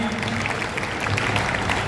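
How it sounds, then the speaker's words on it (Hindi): Loud applause from a gathering at a Sanatan Dharma temple, dense continuous clapping from many hands with a low murmur of voices mixed in beneath it. "जोरदार तालियां के साथ भी"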